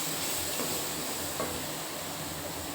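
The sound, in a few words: spice masala sizzling while being stir-fried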